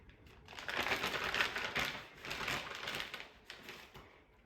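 Ziploc plastic bag crinkling and rustling as palmier cookies made from puff pastry are packed into it, close and fairly soft, in a few bursts of crackly handling.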